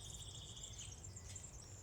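Birds sing in the botanical garden in Fribourg, high thin chirping lines repeating over a low steady outdoor hum, faint and distant, with no one talking.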